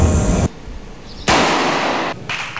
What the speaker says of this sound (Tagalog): Gamit ang modified grease gun.